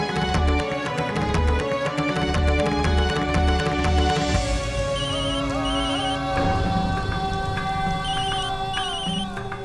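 A repeating electronic ringtone chirps in regular bursts over a busy musical background, the melodic ring pattern cycling several times.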